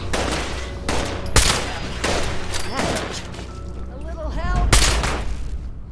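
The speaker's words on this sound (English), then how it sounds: "She's shooting at things again." A companion fires a rifle in Fallout 76 with several sharp, loud shots spaced irregularly across a few seconds, while someone talks over the gunfire.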